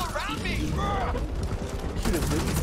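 Gunfire from the Back 4 Blood video game during a fight with an Ogre boss, a steady rattling fusillade of shots under players chatting over voice, with mechanical weapon clicks mixed in.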